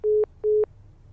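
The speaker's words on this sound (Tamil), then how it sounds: "ஒரு கால் வருது." Phone call signal tone, two identical short electronic beeps in an even rhythm, clear and alone over faint background noise.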